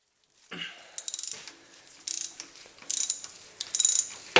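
A hand ratchet loosens engine mount bolts on a Honda Prelude, clicking in several quick bursts of rapid pawl ticks, close and clear with no talk.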